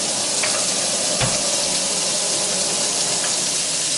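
Meat hisses in a hot frying pan with a loud, steady crackling sizzle, close by with no talk and one small clunk near the start.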